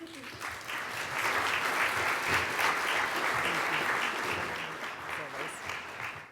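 Conference audience applause at a family event, a dense, sustained wash of clapping that swells and holds steady, with faint voices mixed in.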